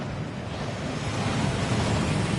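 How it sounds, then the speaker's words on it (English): A waterfall in the Gringotts vaults in Hogwarts Legacy pours as a steady, dense roar of rushing water, constant and fairly loud throughout with no voices. "That waterfall washes away all enchantments."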